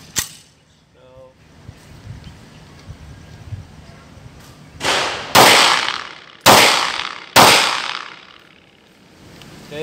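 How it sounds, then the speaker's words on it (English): Tanfoglio MAPP pistol firing full metal jacket rounds at a range: four loud, close, sharp reports, the last three in a spaced series each with a decaying ring, preceded by quieter handling clicks and faint background noise. "we're gonna shoot the full metal jackets first, just to see if it would cycle."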